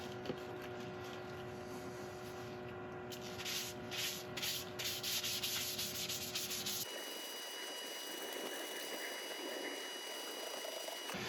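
A cloth rubs a coat of finish onto a turned wooden piece, making a steady scratchy rubbing that runs continuously, then gives way to a quieter, smoother hiss partway through.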